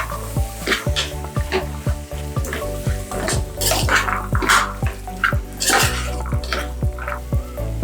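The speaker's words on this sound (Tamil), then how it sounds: "இப்போ இதை வந்து இதில் சேர்த்துக்கலாம் நல்லா கிளறி விட்டுக்கலாம்" Soaked chickpeas are stirred into a sizzling masala in a frying pan for chickpea kurma, with repeated close spoon scrapes against the pan over a steady sizzle and no talking.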